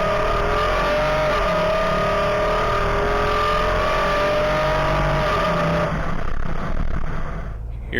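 2019 Nissan Armada V8 with a 7-speed automatic accelerating hard, a loud, steady engine drone rising in pitch up through the gear, close and continuous with no talking, easing off slightly at the end.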